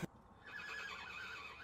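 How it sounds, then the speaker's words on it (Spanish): A horse neighs in one sustained whinny lasting over a second, clear and fairly close, preceded by a brief sharp click, with no talk. "¿Un caballo?"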